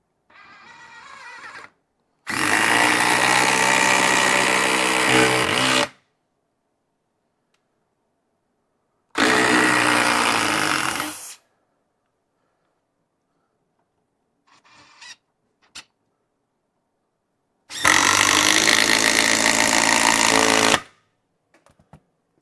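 DeWALT DCF870 quiet hydraulic impact driver and a regular DeWALT impact driver running in turns: three loud sustained bursts of several seconds each with silent gaps, plus a few brief clicks between.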